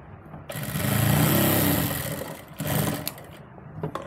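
A sewing machine runs in one sustained burst stitching the gusset seam of a palazzo, its motor whirring close and loud, then a shorter second burst and brief handling clicks.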